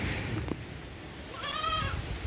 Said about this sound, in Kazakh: Мына екі таза қанды альпинский лақтар сатылады.